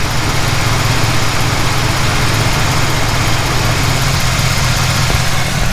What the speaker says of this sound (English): Now that the car is running, come right here and look.